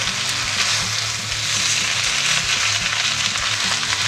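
Cabbage frying on a hot griddle with mushrooms and seitan gives a loud, steady sizzle with crackling spatter, close by and continuous, with faint stirring knocks underneath and no voices.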